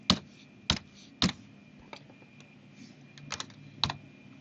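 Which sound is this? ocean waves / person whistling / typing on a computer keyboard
typing on a computer keyboard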